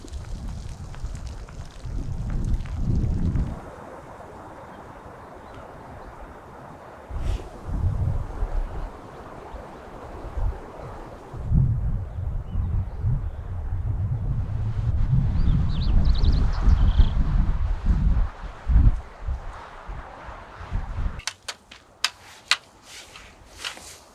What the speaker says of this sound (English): that's windy out there, and pretty cold too